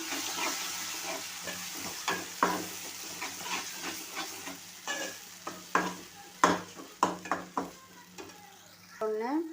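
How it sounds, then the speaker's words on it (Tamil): A spoon scrapes and knocks repeatedly against a frying pan as thick masala paste for Tamil oil-fried eggplant is stirred, with a soft sizzle underneath and irregular clinks throughout. "சேர்த்துட்டு நல்லா கிளறி விட்டுக்கிடுவோம்"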